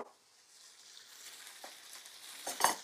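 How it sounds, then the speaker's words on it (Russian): Salmon frying in hot oil in a pan gives a steady, close sizzle that builds toward the end, where a brief louder burst of spitting and crackling rises. "положил на сковородку, на маслице, на раскаленное"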